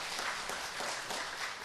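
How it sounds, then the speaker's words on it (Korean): Brief, distant applause from a church congregation at a thanksgiving service, a soft, steady patter of many hands clapping, faint and reverberant. "박수까지 해서"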